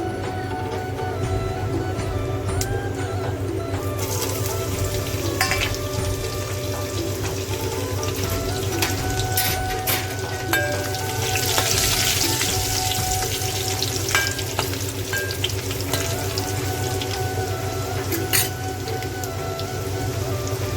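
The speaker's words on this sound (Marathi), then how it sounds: "मोहरी तळतळलं की लाल ठेचलेला लसूण आहे आणि कढीपत्ता" Crushed red garlic and curry leaves fry in spluttering mustard seed oil, giving a steady, close sizzle with scattered crackling pops and occasional stirring, with no talk over it.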